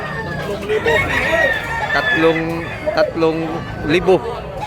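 A rooster crows several times at a poultry market in Tabunok, Cebu, loud and close, with clucking fowl around and people talking nearby.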